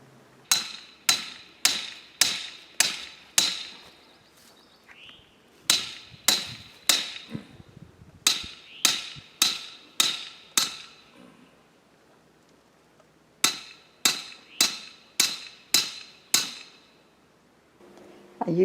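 Repeated hammer blows drive posts for a welded wire fence outdoors, landing in sharp, evenly spaced bursts of five or six strikes separated by short pauses, loud and close.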